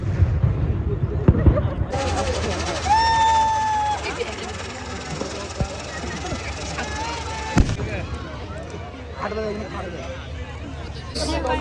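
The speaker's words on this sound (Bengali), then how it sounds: "ওই যে দেখতে পাচ্ছ ওইটা হলো বাজি।" Fireworks at an outdoor flower fair, with whistling rockets and scattered distant pops and bangs over a steady crowd hubbub, a single sharper burst standing out partway through.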